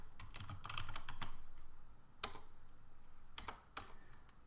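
Keys clatter on a computer keyboard while HTML code is written, quick bursts of clicks followed by a few isolated louder keystrokes, close and clear over a low background hum.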